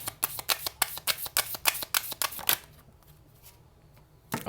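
Tarot cards are shuffled in a fast, crisp run of riffling flicks for about two and a half seconds. The shuffling stops, leaving quiet room tone, and a single card snaps down near the end.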